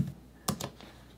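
A few quick keystrokes on a computer keyboard as a font search word is typed, close and clear, with two bright clicks followed by a softer third.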